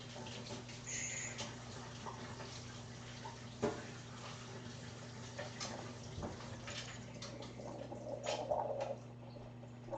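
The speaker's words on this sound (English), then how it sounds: "I'm just going to go give these vegetables a rinse to get that frozen ice off of them" Frozen vegetables are rinsed under a running kitchen tap, water pattering and splashing faintly with small clatters and shifting bursts, no speech.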